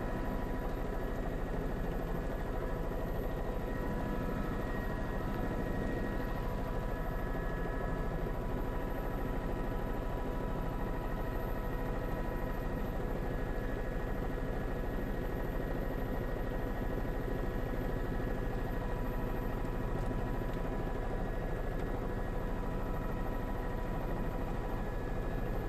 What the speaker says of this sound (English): we will continue to be over this in Chopper 2